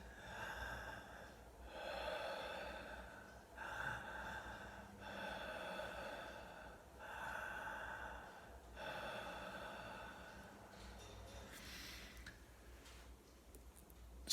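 A person demonstrates connected breathing with the mouth open, drawing steady rhythmic breaths close to the mic, about seven cycles of audible inhale and exhale with no pause between them.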